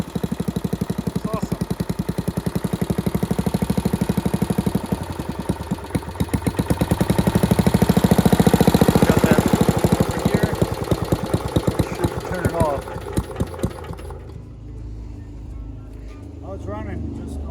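A small Briggs and Stratton Model 9 gasoline engine putters at low speed with a rapid, uneven knocking rhythm, swelling briefly then settling, before cutting to quieter background near the end; a voice speaks partway through.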